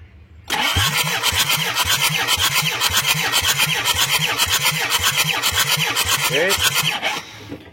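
A Kia Carnival diesel engine cranks on its starter during a compression test, a loud, rhythmic chugging of even pulses that holds steady for about seven seconds before cutting off abruptly.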